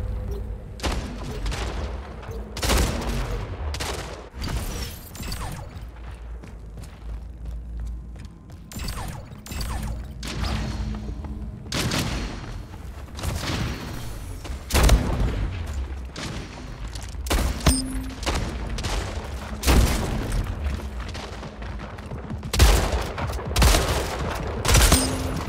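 Rapid gunfire bursts from the video game Splitgate, loud and close, with repeated sharp shots and volleys spread across the whole stretch, plus occasional mechanical clicks and booms and no speech.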